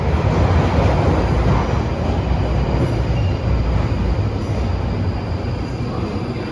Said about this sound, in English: it sounds like I've just missed a train, or I'm gonna miss a train